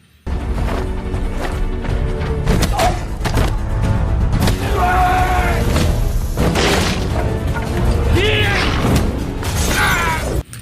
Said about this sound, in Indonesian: Tony dan Reed memutuskan untuk adu jotos ketika sudah bosan main tembak-tembakan